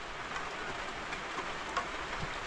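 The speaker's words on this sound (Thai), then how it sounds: "มีเบิ้งนี่ฝนตกมันเถือกฝนตกตลอดเลย" Rain falls steadily on a village home, a continuous soft hiss with scattered louder drips and taps, moderately near and even throughout without a break.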